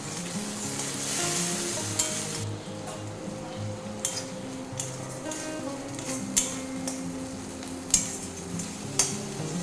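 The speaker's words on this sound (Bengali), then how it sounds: "সেটা ভাজা হয়ে গেছে" Spices such as asafoetida and dried fenugreek leaves frying in a pan for a vegetarian chickpea dal, a steady close sizzle with light spatula taps and clinks scattered throughout, no talking.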